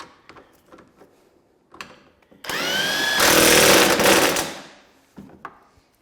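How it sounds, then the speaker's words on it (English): An impact wrench drives the rear suspension bolts on a Polaris snowmobile's rear suspension skid in one loud, sustained burst of about two seconds, bracketed by faint clicks and handling noises. "Now that we're in there, use the impact."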